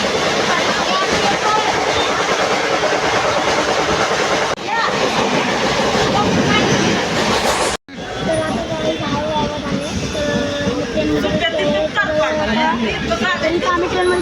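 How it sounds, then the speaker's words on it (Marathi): A passenger train running on its tracks, loud and continuous with rhythmic clickety-clack, while people chatter in the background throughout and the sound briefly cuts out partway. "आवाज आहे तुम्हाला दाखवतो ट्रेनचा."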